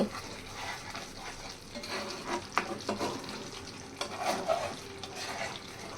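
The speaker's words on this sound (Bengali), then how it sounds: "সবগুলো একসাথে একটু ভালো করে নেড়ে নিব" Chicken roast with green chilies and homemade spices is stirred in a pan, soft scraping strokes over a gentle sizzle, with a few louder clinks of the spoon against the pan, no talk.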